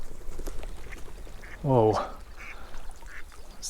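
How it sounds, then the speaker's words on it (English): Ducks burst into a loud, raspy quacking flurry near a trout stream during fly fishing, a single outburst of about half a second amid outdoor water ambience, with a brief spoken exclamation. "Those ducks freaked me out."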